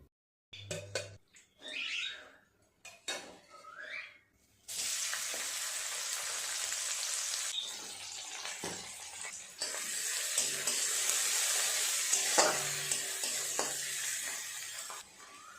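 Fish and oil sizzling loudly in a wok, with a steady frying hiss broken by stirring scrapes and occasional splashes of water, near and continuous with no talk.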